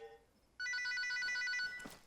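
A telephone rings in the Arma 3 video game, triggering a truck bomb detonation: one short, clear electronic ring burst after a faint start, fairly quiet and alone.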